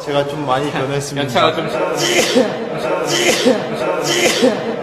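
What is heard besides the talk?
sneeze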